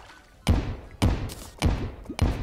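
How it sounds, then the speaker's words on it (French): Firecrackers go off in the video game Terraria: four sharp, punchy bangs at roughly even half-second intervals, each with a short decaying tail. "T'es pas en train de jeter des pétards?"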